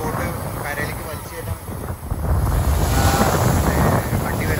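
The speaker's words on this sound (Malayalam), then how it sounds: "നല്ലപോലെ തിര അടിക്കുന്നുണ്ട്" Strong sea waves breaking on a beach where a fishing boat is hauled ashore, heard as a rumbling surf wash that builds in the second half, buffeted by wind noise on the microphone.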